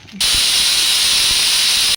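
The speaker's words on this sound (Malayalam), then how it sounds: "അമ്മ കുക്കറിൽ പരിപ്പും മത്തനും കൂടെ വേവിക്കാൻ വെച്ചിട്ടുണ്ടായിരുന്നു." Steam bursts from a pressure cooker holding dal and pumpkin, a loud, steady high hiss that starts abruptly, runs unbroken for nearly two seconds and then cuts off, with no talking.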